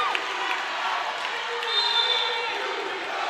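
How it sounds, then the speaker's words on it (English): A crowd cheering inside Chappie James arena at a Tuskegee vs. Stillman volleyball game, a steady roar of voices with a swell partway through, a commentator talking over it. "Crowd here inside Chappie James going TU"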